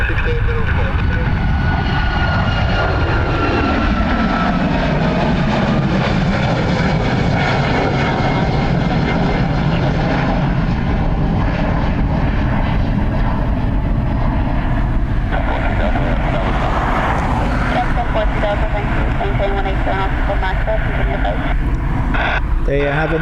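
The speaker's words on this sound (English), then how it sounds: "the wind is coming almost straight at them on 28R today, so they're getting early rotates" A fixed-wing aircraft takes off from runway 28R at Dublin Airport with a loud, sustained engine roar that swells and shifts in pitch as it climbs, accompanied by steady broadband noise and talk.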